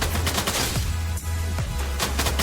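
An M60 machine gun fires in the battle royale video game Free Fire, in loud, rapid bursts of shots that repeat in a steady rhythm with short gaps, heard alone without voices.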